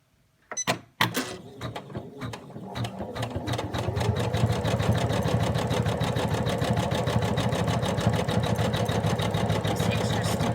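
An embroidery machine stitches a mouse outline in white thread, starting with a few sharp clicks and then settling into a rapid, steady mechanical whirring rattle of needle strokes that runs loud and continuous.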